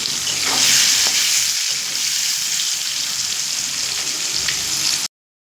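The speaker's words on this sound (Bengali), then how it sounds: "লো টু মিডিয়াম করেই ভাজবো যাতে আলুগুলো এইটটি পার্সেন্ট মতো সিদ্ধ হয়ে যায়" Potatoes with salt and turmeric frying over low to medium heat in a pan, giving a loud, dense, continuous sizzle close by for about five seconds before it cuts off abruptly, with no voices.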